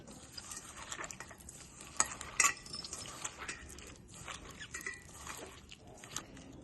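Chopped vegetables and salt are mixed by hand in a bowl while cooking tomato charu with boiled chickpeas, soft close stirring and squishing with occasional light clinks against the bowl, fairly quiet.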